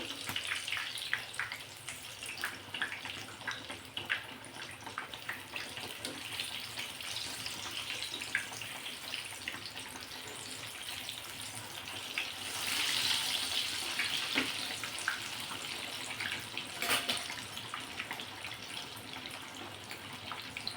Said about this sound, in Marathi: सर्व बाजूने छान आपल्याला ह्या मिरच्या तळून घ्यायच्या आहेत